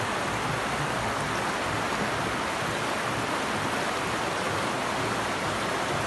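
Floodwater from heavy rain rushing through the streets of Mao, a loud, unbroken roar of flowing water that stays constant and close throughout, with no talking.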